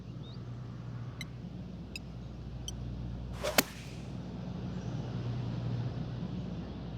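A golf shot in PGA Tour 2K23, struck with about 110 yards left on the par-4 9th, gives one sharp whip-like crack midway through a steady crowd-and-ambience bed, followed by a brief swish.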